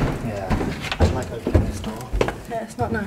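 An old door in an abandoned asylum creaks and clunks as it is pushed open, a few close knocks and scrapes under someone talking nearby.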